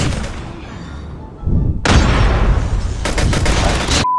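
Rapid bursts of submachine gun fire in a video game, with dense rattling volleys, a brief lull, then more sustained firing.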